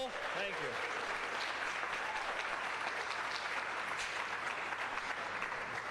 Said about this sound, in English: Can we get a round of applause for Pat?